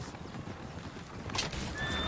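Horses in the video game Red Dead Redemption 2, with galloping hooves and a whinny rising through steady game ambience, moderately loud and without speech.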